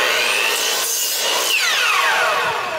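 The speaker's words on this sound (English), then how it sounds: "put that down on the saw, and make sure that I don't trim the template one while I'm doing this" A saw bites through a wood board, cutting a 14-inch piece against a jig, with a continuous bright rasping drone that sweeps in pitch as the blade works through, close and loud with no talking.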